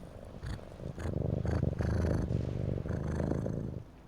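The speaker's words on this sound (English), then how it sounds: "that's him sniffing and purring" A kitten purrs steadily and close, with short snuffling sniffs breaking in at intervals over the continuous low rumble.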